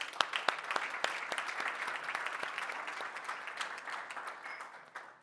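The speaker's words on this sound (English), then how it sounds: "Let's give them another round of applause" An audience at a trade and investment forum in Brussels applauds four panelists, a steady wash of many hands clapping with some sharp individual claps early on, moderately distant and fading toward the end.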